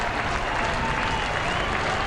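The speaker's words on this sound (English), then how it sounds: "the crowd giving both teams a tremendous ovation" A stadium crowd at a 1993 rugby league match between Canberra and Parramatta applauds both teams in a dense, steady roar of clapping and cheering that fills the whole moment, with no single voice standing out.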